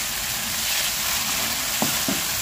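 Potatoes with a little brown sugar sizzle steadily in a hot pan, a dense close frying hiss broken by two soft scrapes of a spoon stirring near the end.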